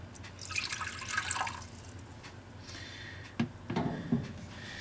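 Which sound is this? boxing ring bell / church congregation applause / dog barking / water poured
water poured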